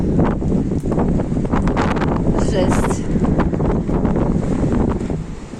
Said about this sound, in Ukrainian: Ну, вітер такий, звісно,